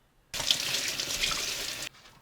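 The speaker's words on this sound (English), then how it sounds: "before I go ahead and fillet him, I will rinse him off with fresh water" Fresh tap water runs steadily for about a second and a half as a slimy fish is rinsed before filleting, a close, even splashing rush that starts and stops abruptly.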